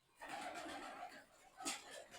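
Pigeons coo softly at a distance, a murmuring throaty burble with a brief brighter call near the end, over faint background noise.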